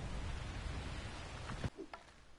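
Steady rain in the video game ARK hisses as a dense, loud wash that fills the clip, then drops off sharply near the end, leaving a few faint drips and soft thuds.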